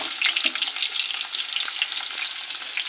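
Chopped onion fries with cumin seeds and whole spices in hot oil, giving a steady, dense crackling sizzle that runs for the whole stretch with no voices.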